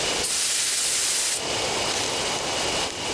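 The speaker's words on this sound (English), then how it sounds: "I take careful aim and spray the drug." A loud, steady hissing spray of pesticide from a sprayer in a video game blasts continuously for a few seconds, close by, with a brief change in pressure partway through.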